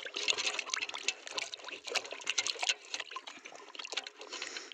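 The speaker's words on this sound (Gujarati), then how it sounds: "આને પણ સરસ પાણીમાં ધોઈ નાખીએ" A small toy is washed in water, with close, soft splashing and trickling as it is swished and rinsed in quick, irregular bursts; no talking.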